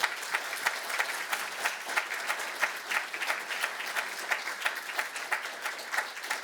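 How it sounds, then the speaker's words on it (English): An audience at a talk about the history of sharks breaks into steady, sustained applause, a dense wash of many hands clapping evenly throughout, fairly loud and with no one speaking. "Let's give him another round of applause"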